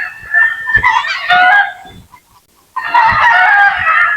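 Pet chickens, young birds nearly grown, raise a loud, close racket of crowing and clucking in two long noisy bursts separated by a brief lull, with no talking.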